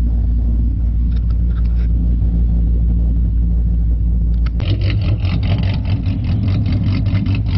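A V6 Mustang idles loudly and close by with a cam-like idle chop from a switchable chop mod; the low rumble turns rougher and more sharply pulsing partway through.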